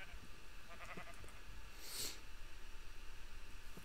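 Sheep bleat in Minecraft, a short nasal bleat standing out around the middle over a steady game background with soft clicking.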